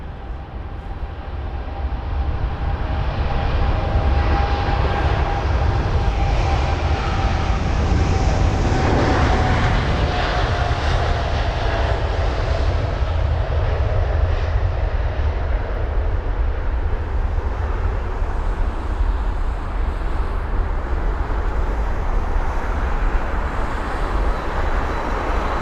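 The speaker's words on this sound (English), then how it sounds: "Here's the WestJet 7879." A WestJet Boeing 787-9 departing at London Heathrow on runway 27 right: a continuous broad jet-engine roar that holds steady and loud throughout, with no one speaking.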